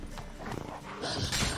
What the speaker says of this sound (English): The horse moving around in front of me is slightly annoying